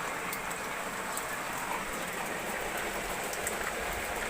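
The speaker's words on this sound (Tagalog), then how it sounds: "Umuulan." Steady rain falls on a wet morning, a constant dense hiss with soft patters that continues unbroken and fairly quietly, with no voices.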